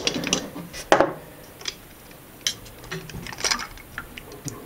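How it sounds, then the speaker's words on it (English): A bolt is worked loose from the spring assembly of a Logitech G27 racing pedal, giving small metallic clicks and ratcheting ticks, close up, in short irregular bursts with no talking. "You hold the red tube like this, and just take the bolt out."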